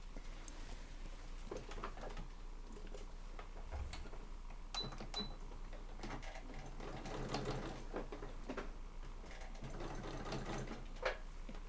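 A sewing machine stitches the side seam of a cross body bag, a faint, steady mechanical chatter with scattered small clicks and taps, quiet and close, without speech.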